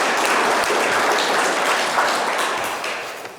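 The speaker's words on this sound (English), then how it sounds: "a round of applause for all of our speakers." An audience applauds the speakers at a gathering, a dense, steady clapping that fills the whole stretch and tapers off slightly toward the end.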